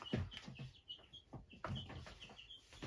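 Young chickens clucking and peeping in a coop, a quiet scatter of short fowl calls and chirps overlapping in quick irregular bursts.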